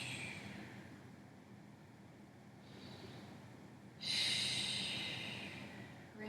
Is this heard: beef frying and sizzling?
no